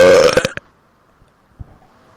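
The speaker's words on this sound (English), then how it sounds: "It's called the Computer Belch Virus." A burp effect called the computer belch virus: one loud, rough belch lasting about half a second, followed by near silence and a faint thump.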